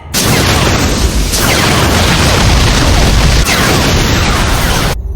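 Spaceship main cannons fire in a sustained, very loud barrage of booming blasts that fill the scene for several seconds without a break.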